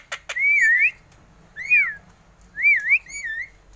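A tame Javan myna perched on a hand whistles several clear, close, sliding phrases in imitation of a human voice, with quiet pauses between them.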